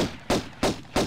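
Gunshots ring out in the video game Tomb Raider 1 inside a cave level, three evenly spaced loud bangs with short decays, coming in a steady rhythm.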